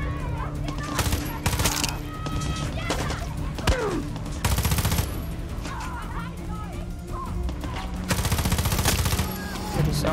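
Rifle gunfire in Far Cry 6, loud bursts of rapid shots cracking in clusters, with dense automatic volleys near the start, middle and end, alongside other combat clatter.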